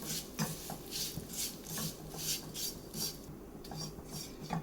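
Rice flakes (aval) dry-roasting in a pan while being stirred, a steady series of close scraping, rasping strokes from the utensil, evenly paced and fairly quiet, with no voices.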